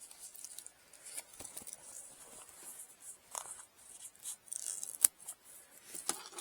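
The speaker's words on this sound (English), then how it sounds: "I'm going to cut or pull off these tags." Scissors snip price tags off a woven placemat destined for a lined pouch with a lace zipper, giving a few quiet, close, crisp cuts and faint rustles, with one sharper click near the end.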